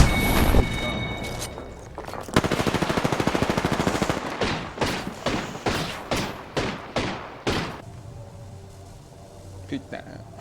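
Apex Legends gunfire in rapid automatic bursts, loud and close, then a run of separate heavy shots, with a player's voice talking over parts of it.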